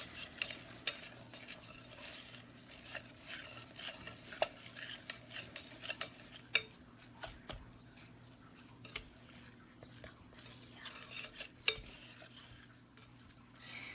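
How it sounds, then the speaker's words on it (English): Choux pastry dough being stirred in a pot with a utensil until it gathers into a ball, quiet scraping and soft knocks against the pot with occasional sharper clinks, fairly close and with no talking. "you have to stir till it forms a ball"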